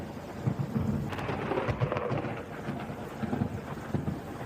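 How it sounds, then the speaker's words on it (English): A thunderstorm over Sydney: low rumbling thunder rolls under a steady wash of rain, with gusty wind on the microphone and no voices. "hectic storm across Sydney"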